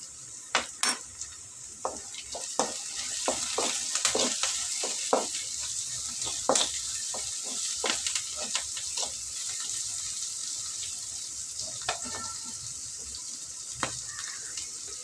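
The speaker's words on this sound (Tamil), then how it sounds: "நல்லா வெங்காயம் சேவந்து வரட்டும்" Salted onions fry and are stirred in a pan for a flat-bean and egg stir-fry: a soft, continuous hiss broken by frequent sharp scraping clicks of the spoon against the pan.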